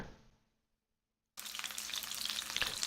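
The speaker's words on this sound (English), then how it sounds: "to sear the steak and lock in that flavor that you just seasoned it with" A steak sears loudly in a hot pan, its strong sizzle bursting in abruptly after a moment of silence and crackling steadily to the end, following a brief fading hiss at the start.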